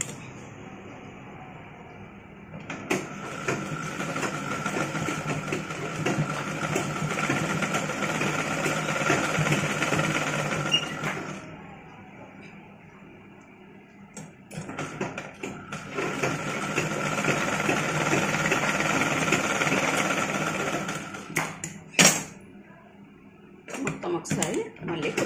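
A sewing machine stitches a three-year-old child's frock, its steady mechanical whir running in two long stretches with a pause and brief clicks between them, while someone talks over it.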